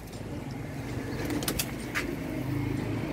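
Home-kept racing pigeons in a loft, with soft bird calls and a brief flutter of wings over steady low background rumble, close and moderately loud.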